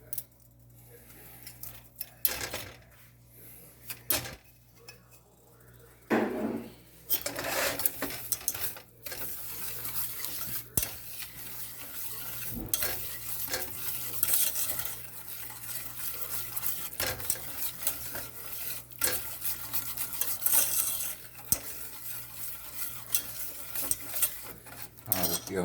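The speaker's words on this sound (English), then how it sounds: "that butter and melt, we're gonna go ahead and add a brown sugar to that" A spoon scrapes and stirs brown sugar through melted butter in a pan on the stove, with a soft sizzle under repeated close scraping strokes and occasional clinks of the utensil against the pan.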